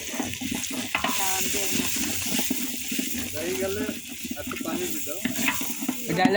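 Food frying with turmeric in a pan at an outdoor picnic, a steady hiss and sizzle with scraping and stirring strokes throughout, while people talk nearby.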